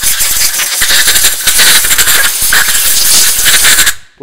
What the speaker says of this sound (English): I have compressed air right handy on my bench, so I'll just blow out.